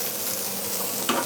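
Onions frying in a pan for a sauce give a steady, close sizzle with the light scrape of stirring throughout, and no voices.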